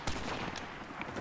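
Dense, sustained gunfire from a Modern Warfare Remastered match crackles in a continuous burst of rapid shots, loud and close, with no voices over it.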